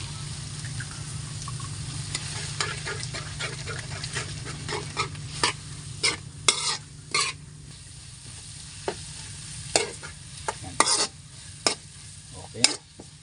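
Dragon fruit stems stir-frying in a pan, a steady close sizzle under repeated sharp scrapes and taps of a utensil stirring against the pan.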